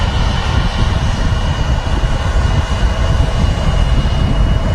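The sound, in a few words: Virgin Airbus A330 jet rolling for takeoff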